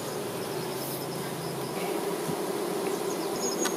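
Honeybees from a farm colony buzz in a steady, dense drone that holds at an even level throughout, close and continuous with no voices.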